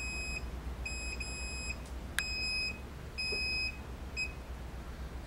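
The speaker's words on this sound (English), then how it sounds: "The unit will start beeping to let you know it's on." A mini wireless camera detector unit emits a series of clear, high electronic beeps after being switched on, in short repeated bursts with brief gaps, close and alone in a quiet room.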